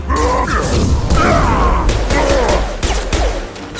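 Heavy gunfire in Mass Effect 2 crackles as a dense, loud barrage of overlapping shots and mechanical clatter, with brief human exclamations and game voices mixed into the chaotic combat.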